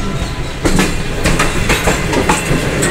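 Tezgam Express passenger train rolling into Multan Cantt station at dusk, a steady continuous rumble of rail cars with soft rhythmic clicks and clatter of wheels over track joints, fairly loud throughout with no talking.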